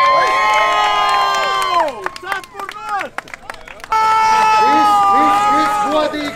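A crowd at a mud fight contest in Kandava cheers and shouts loudly, with whistling and excited voices rising and falling over several seconds, dipping briefly midway before surging again.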